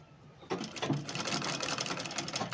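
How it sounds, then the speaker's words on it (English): A sewing machine top stitching a dress starts after a brief quiet moment, then runs at a brisk, steady pace close by with a fast repeating needle clatter. "I'm going to top stitch"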